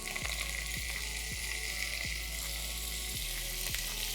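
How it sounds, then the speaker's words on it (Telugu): Vegetables frying in a pan for millet sambar rice, a loud steady sizzle and hiss close by, punctuated by regular soft clinks of a spoon stirring. "ఒక్కొక్కటి వెజిటేబుల్స్ అన్నీ వేసుకుని దీంట్లో ఫ్రై చేసుకోవాలి"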